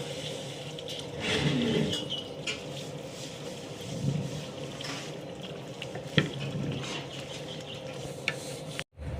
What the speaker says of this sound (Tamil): இப்போ கொஞ்சம் புளி கரைச்சல் கரைச்சி வச்சுருக்கோம் அதையும் ஊற்றிடலாம்